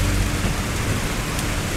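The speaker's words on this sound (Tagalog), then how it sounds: "Oo, Nay. Ang lakas ng ulan." Heavy rain pours steadily, a dense, loud, continuous roar of drops drumming on surfaces with no break and no voices.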